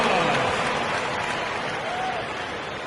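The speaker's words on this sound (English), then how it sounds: "Give yourself a round of applause." A crowd applauds steadily throughout, a dense wash of clapping that tapers slightly toward the end.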